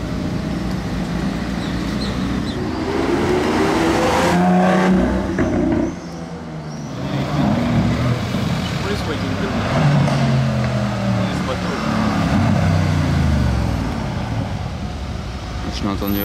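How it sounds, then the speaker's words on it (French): Mercedes-AMG C63 S arriving at night in Monaco, its engine a steady, heavy rumble that swells and eases as it approaches, mixed with street noise and people talking throughout. "Je l'ai entendu arriver de loin avec son E63, ah non C63S pardon"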